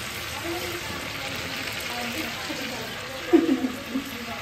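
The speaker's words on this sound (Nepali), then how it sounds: "अब चाहिँ हाम्रो चिकनको फ्राई भइसक्यो" Chicken pieces frying in a pan for meat pickle give a steady, soft sizzling hiss, with a brief burst of louder spattering pops near the end.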